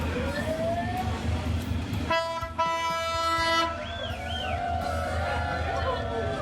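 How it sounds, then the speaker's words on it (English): On Hanoi's train street, a loud sustained train horn sounds over the heavy rumble of a passing train. Voices from the crowd nearby are heard around it. "we heard a horn and the train started coming"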